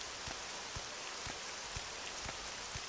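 Soft, steady rain falls in the video game Morrowind, a faint even patter with occasional heavier drops and no voices.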